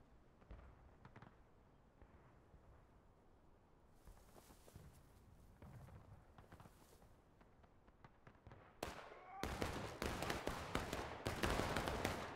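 War of Rights musket volleys in a Civil War farmland battle begin with scattered distant shots, then end in loud, closely packed volleys that crack out in rapid bursts.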